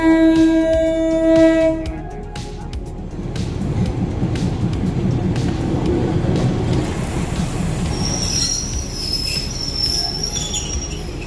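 A train horn blares briefly at the start, then a train rumbles past with rattling wheels and a high metallic squeal toward the end, on the line to Rom Hup market, Samut Songkhram, Thailand.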